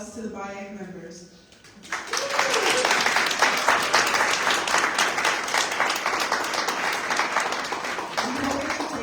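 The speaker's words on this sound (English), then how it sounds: "Please give a round of applause to the BIAC members." Audience applause at an arts education town hall, a dense sustained clapping that bursts in after a brief spoken introduction and carries on steadily, with a voice briefly audible near the end.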